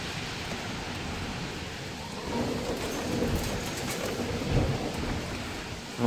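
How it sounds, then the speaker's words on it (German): A heavy thunderstorm during a severe-weather warning in Germany, with steady rain and rumbling thunder swelling in the middle and near the end, continuous and fairly loud with no voices. "So ein Sturm kann alles hochheben."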